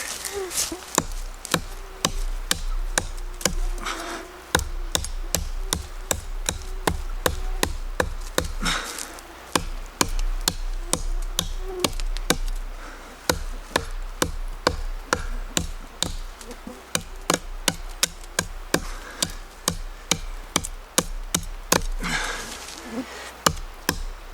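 A prototype NOMAD field knife chops hard into wood outdoors: dozens of sharp, close strikes in a steady, rapid rhythm that continues throughout, pausing only briefly.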